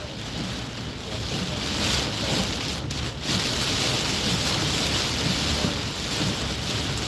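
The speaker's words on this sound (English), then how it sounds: "Man, that's some rain." Heavy rain pours in a steady, loud hiss and patter close by, with a slight swell and one brief dip in the middle.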